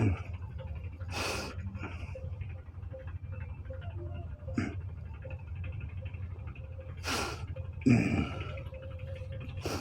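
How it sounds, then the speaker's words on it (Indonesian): Breath dhikr exercise: a person breathes forcefully and rhythmically, with sharp, airy exhalations at intervals over a low background hum and no talk. "zikir napas yang sebenarnya."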